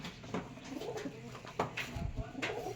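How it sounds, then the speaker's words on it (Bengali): Pigeons of a fancy breed kept at a home loft coo repeatedly in soft, low, rolling phrases, fairly close, with faint chatter and background noise around them. "আর ভাই কোথায় পায়রা বসে দেখতে পাচ্ছ"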